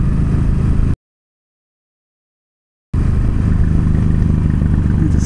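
Motorcycle riding along a rural road on a fall ride, a loud, close, steady engine drone with wind rumble, cut off by a two-second gap of silence before resuming.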